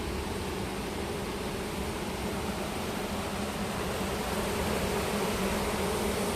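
Honeybees in an open beehive holding stored honey, a dense steady buzzing hum filling the whole stretch, close and even with no voices.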